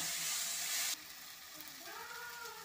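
Chilli powder, garam masala and coriander powder sauté in a pan for a squid pepper gravy. A loud hissing sizzle drops abruptly to a quieter, steady frying hiss, and a faint tonal whine rises near the end.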